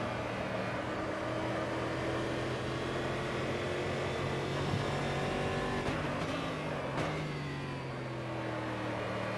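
A stock V8 race car engine in a racing video game holds a loud, steady, throaty burble at high revs, with a couple of brief gear-change dips near the end and no other sounds.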